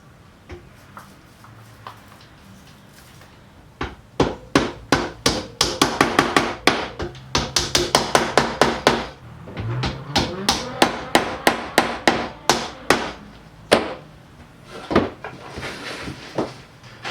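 Wooden dominoes are tapped one after another into glued holes in a tabletop joint, sharp knocks arriving in quick bursts with short pauses between them.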